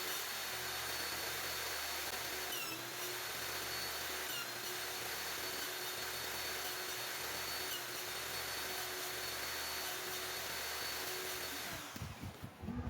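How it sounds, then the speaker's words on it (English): A table saw fitted with a sled cuts a dado joint in wood for a lampshade, a steady loud whine of the running blade holding for about twelve seconds, then spinning down at the end. "I use the table saw sled to cut a dado joint"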